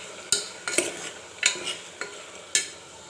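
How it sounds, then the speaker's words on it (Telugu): A spoon stirring chili powder and salt into mutton frying in oil, giving five or six distinct scraping clacks against the pan at uneven intervals, with a soft sizzle between them and no talking. "వీటిని వేసేసుకొని ఒకసారి కలిపేసుకోవాలి."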